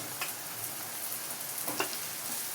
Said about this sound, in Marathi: बटाटा पण चांगला हलवून घेते